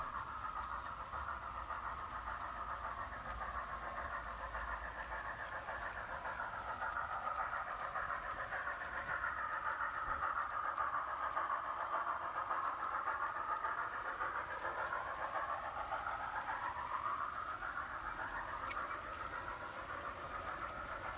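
An electric garden railroad model train running on an outdoor layout, a faint continuous whirring and rolling hum with a slowly swelling and fading pitch as it passes, no voices.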